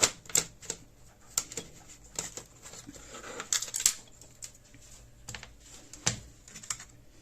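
A thicker sheet of paper is pulled out and handled, giving a series of crisp, close crackles and taps at an irregular rhythm, with no talk over them.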